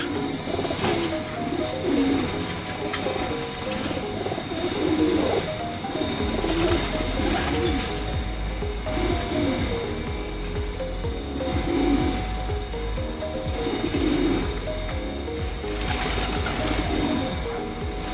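Pigeons coo in soft repeated phrases over a steady, dense background rumble that sounds like a passing aircraft, and the cooing continues throughout.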